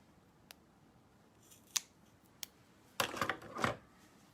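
Scissors cutting a piece of craft foam in half, a few sharp isolated snips followed by a quick flurry of crunchy cuts, close and fairly quiet with no talking.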